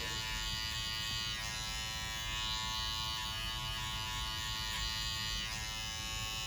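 Steady electric hair clippers buzz close up cutting curly hair, a continuous droning hum that holds level throughout with no talking.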